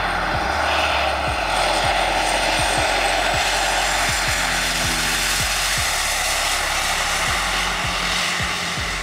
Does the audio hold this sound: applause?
no